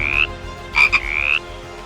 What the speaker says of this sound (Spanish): La rana toro africana,